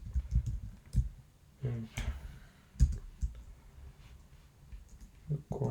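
Computer keyboard typing while working on a Python assignment, uneven bursts of close, soft key clicks and thumps with pauses between, and someone speaks briefly over them.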